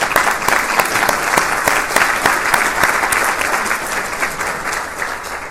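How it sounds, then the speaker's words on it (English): A large audience at a Texas gathering claps in sustained, dense applause that stays loud and even throughout with no talk over it. "I think we have to give them a great round of applause."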